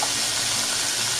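Tap water rushing into a bag inside a 5-gallon primary fermenter for a white wine kit, a loud, continuous, close gushing fill with no talking.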